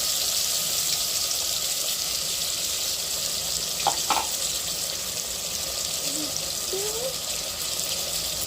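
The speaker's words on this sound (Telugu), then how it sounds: "ఈ మసాలా అంతా మంచిగా వేగనిద్దాము" Masala fries in hot oil for a chicken and mushroom curry, giving a steady loud hiss and sizzle with a few soft clinks and stirring sounds.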